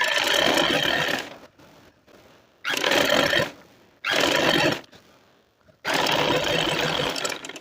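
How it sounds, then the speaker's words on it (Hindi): Sewing machine stitching palazzo pant fabric in four loud bursts of about a second each, separated by quiet pauses while the cloth is repositioned. "ये आपने कपड़े को साथ साथ बराबर करते जाना है और सिलाई लगाते जाना है।"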